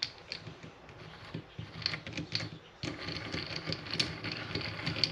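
Tool holders are cranked into position on a Vevor mini lathe, producing quiet ratcheting clicks and small metallic ticks in irregular bursts, close by against a low shop background.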